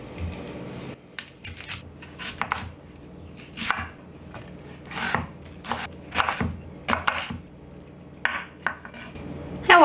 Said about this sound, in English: first thing I'm gonna do is cut up my onions and my garlic and my other vegetables here